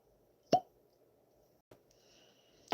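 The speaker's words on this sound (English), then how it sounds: "So let's see if I can get that cork pop again." A cork pops from a bottle, one sharp, close pop, with a fainter click later on over low room background.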